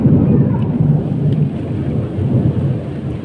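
A deep, rolling rumble of thunder fills the air over a constant wash of the season's first rain, loud and close, with no voices.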